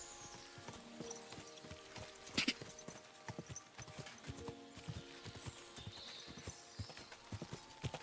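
Horse hooves clip-clop in an uneven rhythm at moderate distance in the video game Kingdom Come: Deliverance II, with a brief louder burst partway through and quiet background tones underneath.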